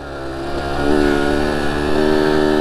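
A Kawasaki KX85 two-stroke dirt bike engine revs hard and high, a loud, buzzy, sustained note rising in pitch as it accelerates close by, with no voices.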